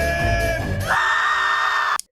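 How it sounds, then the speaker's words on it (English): Cartoon screaming from an Animaniacs 2020 Halloween spot, a loud sustained yell that rises in pitch partway through and cuts off abruptly at the end, with a musical backing underneath. "Let me hear you scream!"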